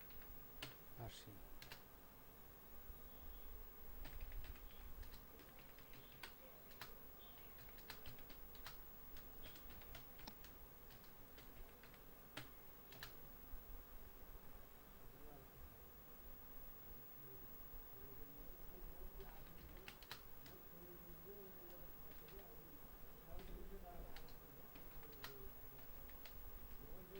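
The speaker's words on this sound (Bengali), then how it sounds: "তো এটা হলো বাংলা টাইপ।" Bengali text being typed on a computer keyboard in Word, with quiet, fast, irregular key clicks in short bursts over a faint steady hiss and occasional soft speech.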